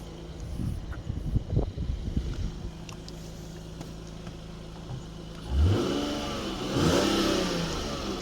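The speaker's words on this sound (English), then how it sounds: "Just gonna rev the car up and show you what it sounds like." A Lexus IS200 engine idles, then is revved in a few short bursts, the rising and falling growl heard from outside the car, with some clunks and handling noise early on.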